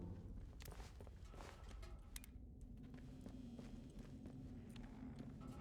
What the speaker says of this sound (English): That looks like a horse.